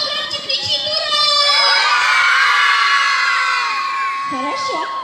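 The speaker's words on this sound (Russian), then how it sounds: "А кто громче кричит «Ура!»?" A crowd of children at an outdoor summer festival shouting "Ura!" together, a loud sustained group cheer with high whooping voices, followed by an adult speaking briefly at the end.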